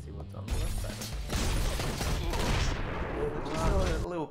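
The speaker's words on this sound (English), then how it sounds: "A little couple of shotgun pellets." Shotgun blasts in the video game Mr Shifty, a dense burst of overlapping bangs and clattering impacts lasting several seconds, loud and close, with a brief voice underneath.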